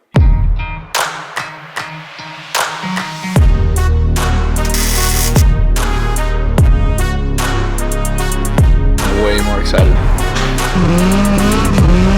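A BMW E30 with a swapped engine revving hard, with sharp bursts, tire squeal and skidding, loud and close, continuing with a sustained roar; a voice briefly speaks.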